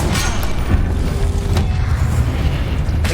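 Confringo explosion spell in the video game Hogwarts Legacy: a steady, loud, rumbling blast with crackling bursts, sustained throughout without talk.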